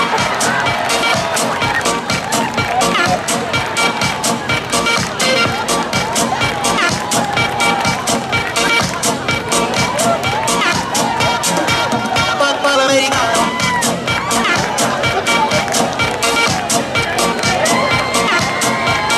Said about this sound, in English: we're gonna need you to cheer these guys on